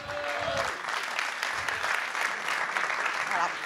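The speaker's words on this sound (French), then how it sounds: "on peut vous applaudir" Conference audience clapping at the opening of a development-council meeting in Toulouse, a steady, moderately loud spread of applause across the hall, with some talk mixed in near the start.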